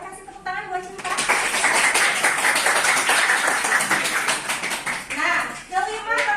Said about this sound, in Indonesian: boleh kasih tepuk tangan buat Cinta.